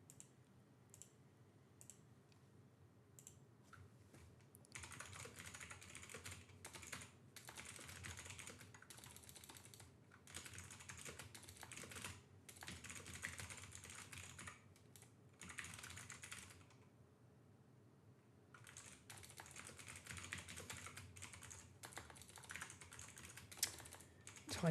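Rapid clicking keystrokes on a computer keyboard come in irregular bursts with brief pauses, close and quiet, continuing for the whole stretch.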